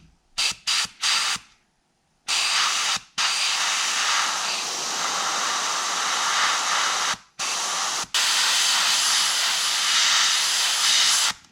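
An airbrush sprays paint onto an oak wood musky twitch bait lure, with several short close hissing bursts followed by long steady hisses broken by brief pauses.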